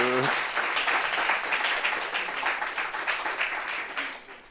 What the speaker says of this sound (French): Est-ce qu'on peut applaudir tout le monde sur ce plateau?